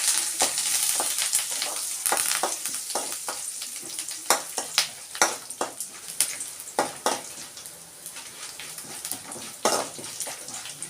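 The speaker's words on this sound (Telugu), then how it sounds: "తాలింపు బాగా వేగుతుందండి" Curry leaves tempering in hot oil for a ridge gourd peel chutney, giving a steady close sizzle broken by many sharp crackles and pops throughout.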